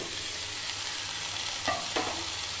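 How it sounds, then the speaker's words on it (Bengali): Yam and potato are stirred into frying masala in a pan, with a steady low sizzle and two brief scraping strokes of the spoon near the end. "মশলাটা কষা হয়ে গেছে, এবার আমি ওল আর আলুটা আমি দিয়ে দিলাম"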